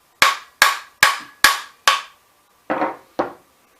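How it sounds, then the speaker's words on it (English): Seven sharp metallic hammer strikes on a Ramset RS22 .22 caliber trigger tool during disassembly, five evenly spaced blows followed by a short pause and two more, close and loud. "Hammer."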